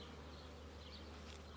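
Honey bees hum around an opened hive during an inspection, a faint, continuous buzzing drone with a few closer flybys rising near the end.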